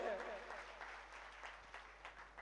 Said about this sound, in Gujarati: એના માટે ફરી તાળીઓ સૌ કાર્યકર્તાઓ માટે।